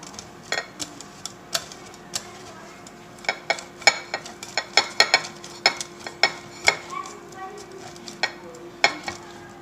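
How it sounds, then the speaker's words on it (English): Cheese is grated fresh by hand in a kitchen, a run of quick, rhythmic rasping strokes that repeat steadily and close up over a low, constant background hum. "I'm gonna grate my cheese fresh"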